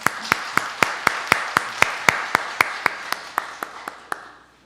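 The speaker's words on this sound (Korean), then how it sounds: "한 박수로 환영해 주시면 고맙겠습니다" Steady, evenly spaced claps from a church congregation, around seventeen sharp hand claps in a regular rhythm, fairly close, slowing and fading slightly toward the end.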